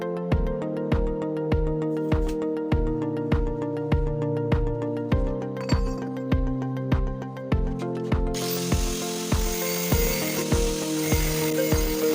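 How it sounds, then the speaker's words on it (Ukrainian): A metal pipe being cut with a power tool: a steady motor whine runs under a regular, rhythmic series of loud knocks, and a harsher grinding hiss comes in during the last few seconds. "щоб потім можна було її точно відрізати"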